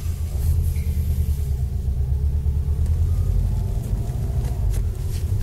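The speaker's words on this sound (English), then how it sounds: "This is the centre diff bearings haven't been replaced on the new age WRX 5-speed gearbox." A Subaru Impreza WRX 5-speed gearbox with worn, unreplaced centre diff bearings gives a steady, low rumbling drone that stays constant throughout, with no voices.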